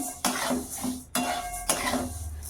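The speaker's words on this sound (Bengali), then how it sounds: "এই যে এখানটায় ডাল চাপিয়ে দিয়েছি এই যে মুগ ডাল মুগ ডাল ভেজে নিচ্ছি" Moong dal dry-roasting in a pan on a home kitchen stove, with three sharp scraping, clattering strokes of a utensil against the pan over a steady sizzle, close and fairly loud, no voices.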